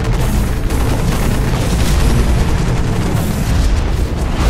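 Hellfire missile explosions in the Hawken mech game, a loud continuous roar of blasts and booming impacts with dense rumbling, close and unbroken throughout.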